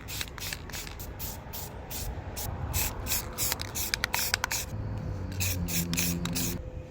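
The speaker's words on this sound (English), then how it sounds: "I'm going to try this thinner one coat spray paint rather than putting primer and paint on there" One-coat spray paint hissing from an aerosol can onto the metal tongue of a 75-year-old camper trailer, in close, steady bursts with short pauses between passes.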